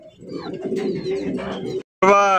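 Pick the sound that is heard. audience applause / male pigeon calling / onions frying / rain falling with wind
male pigeon calling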